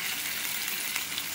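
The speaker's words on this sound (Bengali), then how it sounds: "ফুলকপিটাকে আমি লাল লাল করে ফ্রাই করে নেব মিডিয়াম ফ্লেমে।" Cauliflower and potato frying in a pan over medium flame give a brief, close, uniform crackling sizzle with no voices.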